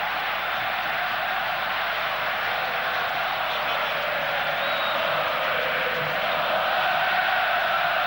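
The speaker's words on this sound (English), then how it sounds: "A delighted crowd now." A futsal crowd at a 1996 World Cup match between Spain and Brazil cheers and applauds, a steady roar of many voices and clapping that holds evenly throughout.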